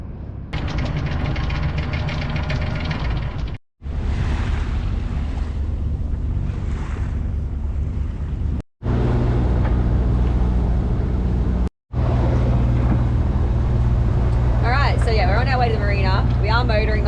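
A sailboat motors across a calm sea under a Yanmar 3YM30 diesel, a steady low drone mixed with wind buffeting and water wash, broken by brief cuts, and someone talks over it near the end.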